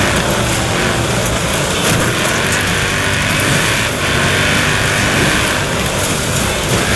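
Mini X-raid Countryman Dakar rally car in Forza Horizon 4, a loud, gruff engine roar held at steady revs for several seconds, close and continuous with a rough, tank-like rumble and no speech.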